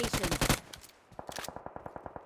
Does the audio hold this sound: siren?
no